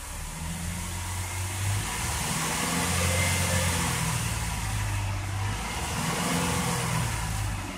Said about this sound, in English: if I give it gas